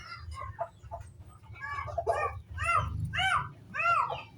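A chicken clucks close by in a series of short, rising calls that grow louder toward the end, over a low rumbling background.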